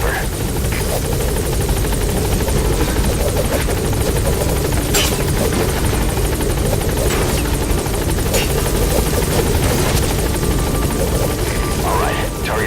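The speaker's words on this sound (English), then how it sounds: "Get on the chopper and return to base." Helicopter from the Metal Gear Solid 5 video game, a steady loud rotor thrum and engine buzz throughout, continuous and close with faint effects over it.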